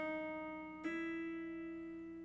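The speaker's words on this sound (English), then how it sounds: "But if you do 2 hammer-ons in a row, it sounds like this." An electric or acoustic guitar plays a song intro, a sustained ringing note then a quick pair of hammer-ons near the one-second mark that brighten the tone, close, quiet and alone, the notes ringing on afterward.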